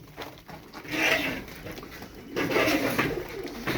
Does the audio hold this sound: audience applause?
no